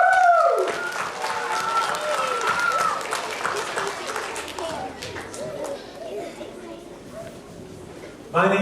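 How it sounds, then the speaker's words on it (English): Elementary school children applauding each other in a group setting, a loud burst of clapping with cheering and chatter that tapers off over several seconds, with an adult voice briefly heard at the end. "Let's give each other a big hand."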